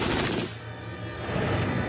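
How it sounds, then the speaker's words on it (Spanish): An MG-42 machine gun fires a continuous, extremely rapid burst whose shots blur into a loud tearing roar, from a Second World War documentary. "La MG-42 era tan rápida que no se podían escuchar los disparos por separado."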